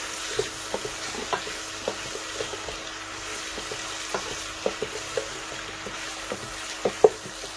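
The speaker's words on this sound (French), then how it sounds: "On remue bien afin que nos gombo puissent frire aussi" Okra fries in a pan with a low, steady sizzle, punctuated every half second or so by sharp clicks and taps as it is stirred, the last knocks landing a little louder.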